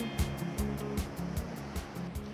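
Ocean surf breaking at a beach, a steady roar of water with repeated soft thumping bursts, constant and moderately loud, with no voices.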